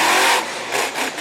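Monster truck running a big Ford Performance engine at a Fredericksburg, Virginia event gives a loud, close engine roar that dips and surges again in a quick rev.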